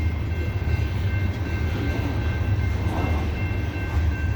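A CSX loaded coal train crawls up a grade on Parrs Ridge with one locomotive offline, a steady, loud, continuous rumble of heavy cars and engines close by, with no talking.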